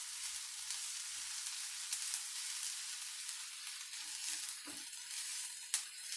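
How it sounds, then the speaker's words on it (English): Onions sauté in a pan for mussels in white wine butter sauce, making a continuous, even hiss of sizzling broken by a few soft knocks from stirring. "So always start with your onions first, saute them a little bit."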